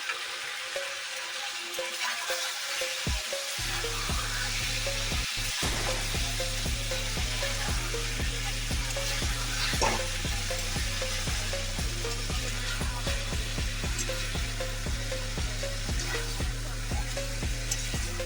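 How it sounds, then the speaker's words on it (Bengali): Chicken for achari chicken sizzles loudly in a pan as it is sautéed and dried down. A steady, dense frying hiss carries through with rhythmic stirring scrapes and no talk. "আমি এবার চিকেন কষানোটা তোমাদের দেখাচ্ছি।"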